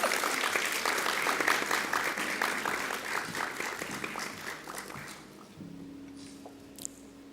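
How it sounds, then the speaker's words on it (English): An audience at a pinning ceremony for occupational therapy graduates claps in a dense, lively burst that thins and fades out, leaving faint room tone with a low hum and a few scattered small sounds at the end. "Another round of applause"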